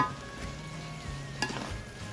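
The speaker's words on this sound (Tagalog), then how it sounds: "So now you have to stir it well" Chicken Bicol Express being stirred in a pan over the heat, a steady soft sizzle and simmer with light scraping of the spoon, one sharper clatter partway through, no talking.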